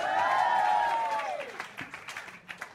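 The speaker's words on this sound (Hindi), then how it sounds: "एक बार जोरदार तालियाँ for Wok Talk man" Studio audience at a comedy talent show clapping for a sponsor, a crowd applause that starts under a sustained sung or tonal voice gliding downward, then thins into scattered claps.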